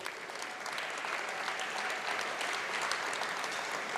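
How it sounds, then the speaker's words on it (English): A packed banquet hall at a university academic and athletics awards dinner fills with continuous applause, thick and even from start to finish, heard from the middle of the room. "Let's give yourselves a round of applause."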